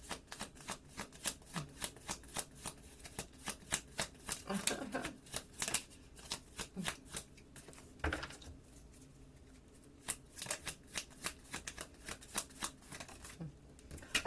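Playing cards riffled and shuffled in rapid repeated bursts of crisp flutter, close and fairly loud, with brief pauses between rounds and a voice talking over parts of it.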